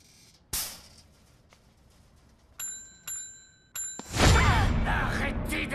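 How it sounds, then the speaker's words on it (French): A doorbell is pressed repeatedly, giving three bright ringing tones in quick succession. A sharp knock comes before them and a loud rushing noise follows. "Arrêtez d'appuyer sur la sonnette, bon sang."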